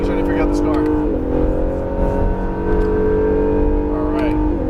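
An Acura NSX sports car on a race track holds a steady, loud engine drone that shifts pitch as it accelerates, with an instructor's voice talking over it.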